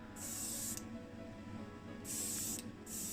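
Airbrush spraying enamel paint thinned 50-50 with Humbrol enamel thinners onto a Realtoy Mazda RX8 model: three bursts of bright, close hissing spray, two short and one longer, separated by pauses over a low steady compressor hum.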